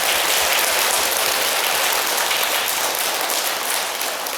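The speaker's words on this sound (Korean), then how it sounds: "박수 한번 칩시다" An audience at a temple prayer gathering breaks into dense, sustained applause, a loud, even hiss of many hands clapping that holds steady and eases off slightly at the end.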